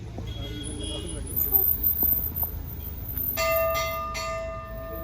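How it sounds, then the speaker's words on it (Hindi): Bells tied up in large numbers at a Hindu temple in Ranikhet ring out in a bright, sustained metallic clang partway through, over road traffic and people talking nearby. "ये जितनी भी घंटियाँ हैं ये सब लोगों ने बांधी हुई हैं मन्नत के, उस पर पूरे मंदिर में घंटियाँ ही घंटियाँ बांधी हुई हैं।"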